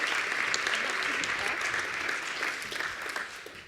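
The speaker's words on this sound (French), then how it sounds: "que je vous demande d'applaudir" An audience at an evening launch event for a hub claps warmly for a closing speaker, a dense sustained patter of many hands that tapers slightly toward the end, with no voices over it.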